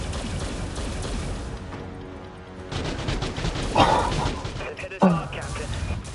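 Blaster and cannon fire crackles in rapid bursts during a Star Wars Battlefront 2 battle, dense and loud throughout with sharper blasts standing out, while a voice talks over it.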